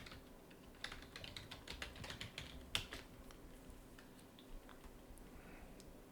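Soft, close keyboard typing on a computer, a quick irregular run of key clicks entering a terminal command, with a few slightly louder strokes and no talking.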